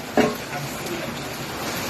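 Heavy rain pours down as a dense, steady hiss that fills the whole moment, with one brief louder bump near the start and no talking.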